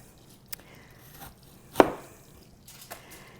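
A knife slices through a peeled apple for a pie, cutting close around the core, with one distinct crisp cut standing out amid a few fainter slicing sounds, close and with no talking.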